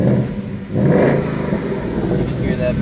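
A 2018 Ford Mustang GT's exhaust in sport mode revs loudly and close, with a deep, rough engine roar that swells around the middle and holds steady to the end.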